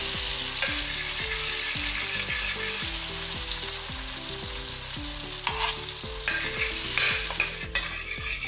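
Vegetable spring roll filling is stir-fried in oil, a loud, continuous sizzle with regular, rhythmic scraping and tossing strokes of the spatula in the pan, growing busier toward the end; no talking.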